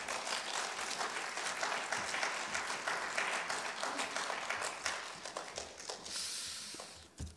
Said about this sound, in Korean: 우리 목사님 나오실 때 환영의 박수로 우리 환영하겠습니다.